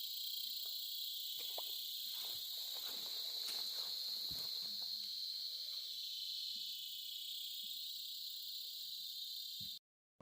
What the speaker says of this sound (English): grasshoppers or birds singing in their mountain songs